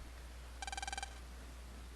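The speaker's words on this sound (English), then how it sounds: "Oh, phone call." Telephone ringing in the Mega Man Battle Network game, a short electronic burst of about eight rapid, evenly spaced chirps heard alone over a quiet background.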